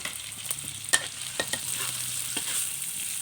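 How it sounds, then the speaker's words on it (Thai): Cooked noodles stir-fried in a wok with garlic and pork for a Thai soy-sauce noodle dish: soft continuous sizzle broken by a few sharp spatula scrapes and clanks, close and moderately loud with no talking. "ยายจะผัดเส้นสุกก่อนนะคะ"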